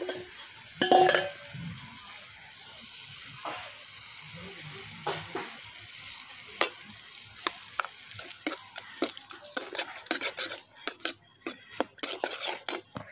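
A spoon scrapes and clinks against a pan while chicken curry with potatoes is stirred after whisked sour yogurt goes in, with soft sizzling underneath and a quickening run of sharp metallic taps toward the end, no talking.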